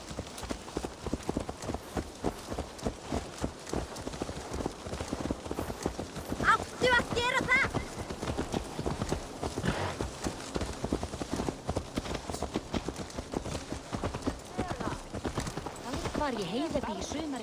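Horse hooves clip-clop steadily in Assassin's Creed Valhalla, a fast continuous trotting patter with a short whinny midway, under game voices speaking throughout.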